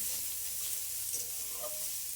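Chopped onion, garlic and dried chilli fry in oil with a soft, even sizzle and hiss that runs briefly and unbroken, heard close but fairly quiet.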